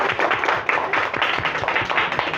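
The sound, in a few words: audience clapping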